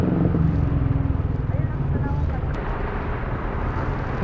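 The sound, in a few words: motorcycle passing on the road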